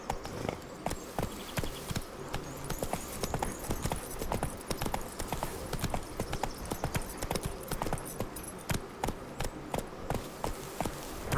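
A horse in the Witcher 3: Wild Hunt video game gallops on hard ground, giving rapid, rhythmic hoof clops that repeat steadily and sound moderately close for the whole stretch, with no talk.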